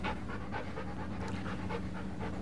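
A dog pants steadily in a quiet indoor room, a rhythmic run of quick breaths at close range with no other sound on top.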